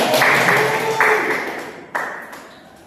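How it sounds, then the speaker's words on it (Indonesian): Classmates applaud in a school classroom: a dense, steady wash of clapping that swells twice and slowly fades, with a few voices calling out over it. "Ya tepuk tangan untuk teman-teman saya"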